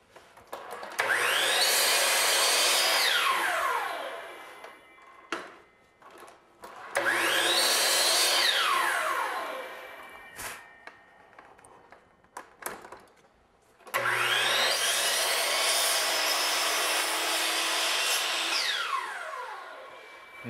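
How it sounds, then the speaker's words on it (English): A saw, set to each detent of a miter gauge, cuts kerfs in crown molding in three separate passes. Each cut is a loud whine with a shifting, sweeping pitch, split by short pauses and faint clunks. "make a kerf at each detent, just to be sure you're cutting at the right angle"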